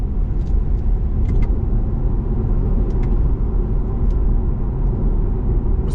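A BMW 320d xDrive (G20) diesel sedan accelerating to overtake, heard from inside as a steady, loud engine and road rumble with a few faint clicks above it.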